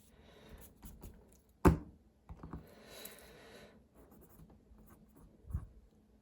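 Pen strokes jot a quick handwritten note on paper, with a sharp tap as the pen lands, then soft scratchy scribbling in short bursts, close and quiet.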